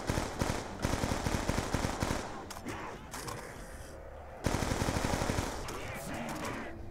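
Call of Duty: Black Ops 2 zombies match on the Buried map, with rapid, dense bursts of close machine-gun fire in two long strings separated by a quieter stretch of mechanical clatter.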